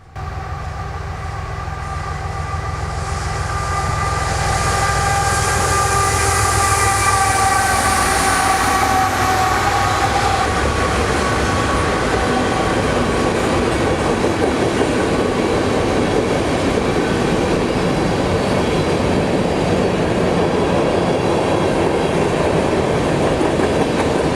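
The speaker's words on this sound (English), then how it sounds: "a loaded train cruises through the woods toward milepost 133" A loaded freight train rolls through woods, its rumble building from a distance into a loud, sustained roar of wheels and clattering cars, with horn-like tones early on and the heavy grind continuing alone.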